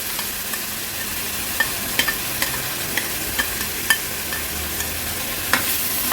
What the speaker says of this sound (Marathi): मसाल्यावर थोडीशी परतून घ्यायची आहे